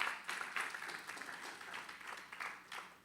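A church congregation applauds in a sustained round of scattered clapping, fairly faint and distant, rising and falling over a few seconds.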